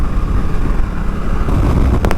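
Strong wind buffets a rider on an Africa Twin motorcycle on a smoky back road in Lolo National Forest, Montana, a steady loud broadband rush with low rumble filling the whole stretch, no talk heard.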